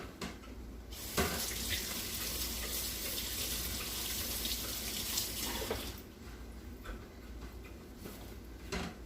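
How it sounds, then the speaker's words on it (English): Tap water runs steadily into a sink during handwashing, a continuous broadband splashing that holds for most of the clip and eases slightly near the end. "wash my hands again."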